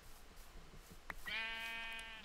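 A single sheep bleats in the video game Minecraft, a clear wavering call lasting about a second, preceded by a brief click over a faint background hum.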